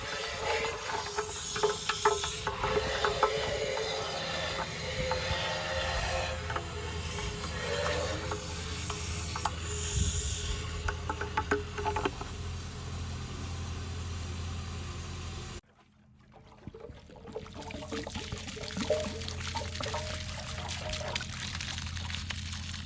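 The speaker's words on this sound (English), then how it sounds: "Alright, let's rinse it out with some water." Water rinsing through a 1978 Harley-Davidson Shovelhead Lowrider fuel tank, a hissy sloshing and pouring rush that cuts off abruptly, then resumes as softer trickling and splashing, close by.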